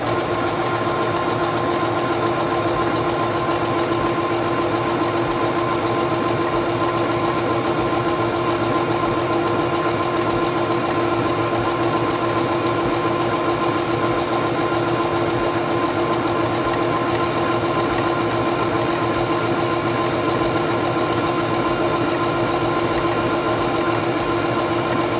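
Sewing machine stitching fabric under the presser foot, a continuous, even mechanical whir with a rapid regular beat and steady motor hum, close and unbroken for the whole stretch.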